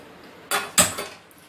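A metal pan set down on a stove in a home kitchen before tempering spices, two sharp clanks in quick succession with a short ringing tail, otherwise quiet.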